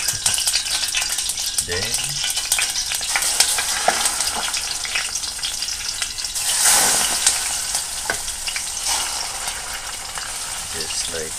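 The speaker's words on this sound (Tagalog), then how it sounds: "Ang maingay na pagprito." Loud, noisy frying in a pan during early morning cooking of a pancake-like batter, a continuous crackling sizzle with scattered pops and stirring scrapes, and a brief spoken word over it.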